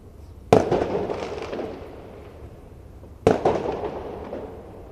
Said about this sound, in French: Oh mon dieu, des feux d'artifice,